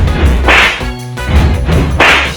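Two sharp slap sound effects land about one and a half seconds apart. Each is loud and close with a whooshing crack, and a short tonal sting plays between them.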